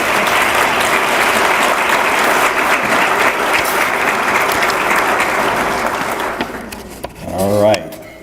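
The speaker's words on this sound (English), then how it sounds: "Let's give them a round of applause." Dense, sustained audience applause at an awards recognition event, steady for several seconds before tapering off, with a single voice rising briefly at the end.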